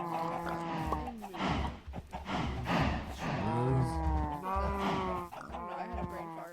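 Cows mooing in a Minecraft farm, a run of drawn-out, overlapping game moos that keeps going with little pause, loud and close over faint background sound.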